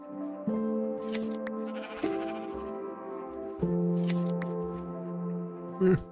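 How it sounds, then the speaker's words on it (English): Sheep bleat repeatedly while being sheared in the Minecraft video game, several clear bleats punctuated by short snipping clicks, close and distinct with no talk. "we got some sheep over here that we can fleece"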